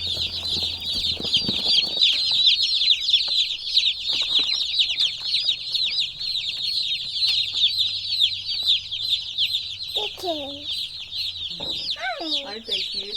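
A large flock of meat chickens bred for fast growth clucks and cheeps on a farm, a dense, continuous high chatter with a few louder squawks near the end and faint voices underneath.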